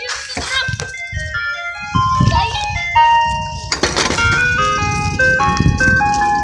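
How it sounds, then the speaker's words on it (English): An ice cream truck plays its tinkling chime melody close by and loud, while children talk excitedly over the tune. "ice cream truck's right there"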